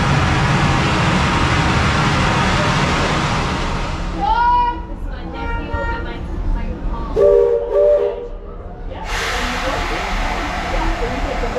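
Steam-style train whistle on the Walt Disney World Railroad sounding the all-clear signal, a few clear tonal blasts rising over steady rolling train noise and open-air ambience.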